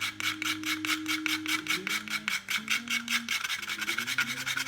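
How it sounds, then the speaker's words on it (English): Whole nutmeg rasped against a grater in quick, rhythmic strokes, a close, steady scraping with a faint musical tone underneath. "a good grating, it says, of nutmeg"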